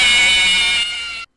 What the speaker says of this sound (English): the Five Nights at Freddy's 1 characters, being Freddy Fazbear, the original Bonnie, Chica, and Foxy, they all have the same sounding jump scare like this.